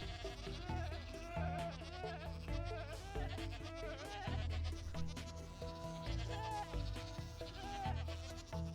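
Goats bleating in Minecraft during a redstone build session, repeated bleats layered over busy game sounds and background music.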